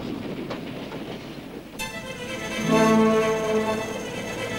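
A fast-moving train in a film stunt scene, travelling at about 60 miles an hour: a steady rumbling roar with clattering wheels that swells louder midway through, with no talking.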